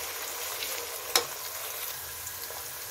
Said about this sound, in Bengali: পেঁয়াজ দিয়ে আমি এখন একটু ভালোভাবে নেড়ে নিব